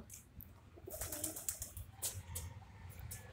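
Pigeons being fed outdoors give soft coos and brief flutters of wings, moderately close, with a rustle of bird activity and faint background noise throughout.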